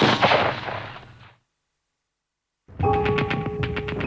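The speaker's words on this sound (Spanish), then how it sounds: "Minutos después se oyó un solo disparo." One gunshot cracks out and rolls away in a long echoing decay, then a silent pause before music begins.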